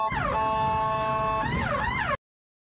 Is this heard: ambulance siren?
yes